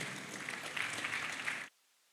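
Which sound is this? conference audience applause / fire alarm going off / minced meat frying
conference audience applause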